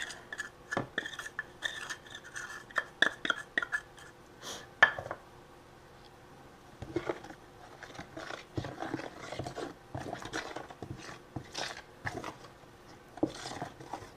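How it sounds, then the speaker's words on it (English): Spoon scraping and rasping through a stiff mix of cornstarch and glue for homemade wood putty, irregular close-up strokes in bursts with brief pauses. "Mix it with your spoon until it, kind of comes together and starts to look like a dough"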